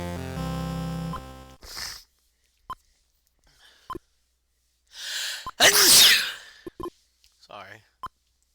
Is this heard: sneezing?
yes